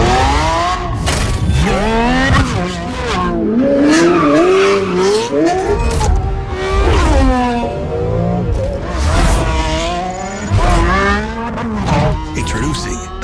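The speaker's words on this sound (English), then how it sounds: "To combine the sound of the engine with the light of a new beginning." A Lamborghini hybrid V12 electrified car roars close and loud, its engine rising and falling in repeated high-revving sweeps with tire-squeal-like edges.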